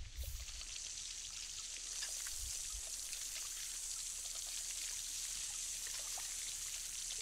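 Water leaking from damage in the house in The Sims 4, a continuous even trickle and patter that runs steadily throughout with a faint low thump near the start.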